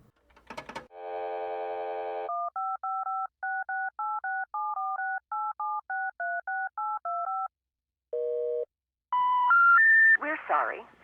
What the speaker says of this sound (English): I made a phone call from the alien ship, like literally made a phone call.